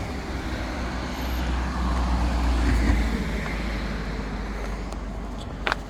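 Traffic on a street in Fatima, Portugal hums steadily, with vehicles rushing past at speed in a broad low roar that swells mid-way and eases off, ending with a brief sharp click.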